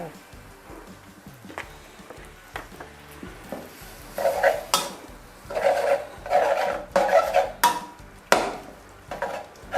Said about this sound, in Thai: เราผัดนะคะให้วุ้นเส้นสุกก่อนนะคะ